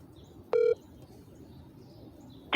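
Two touch-tone beeps from a phone keypad being dialed, a short clear tone followed by another about two seconds later, over a low background rumble.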